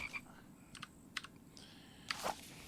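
Frogs croak in The Infected video game, a few short separate calls at moderate distance, with clicking sounds between them and no talk.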